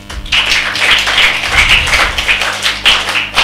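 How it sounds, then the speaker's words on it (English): A class of grade 2 children claps for their classmates after spelling bee results are announced: dense, steady applause with many overlapping hand claps close by, filling the whole stretch. "Clap for them."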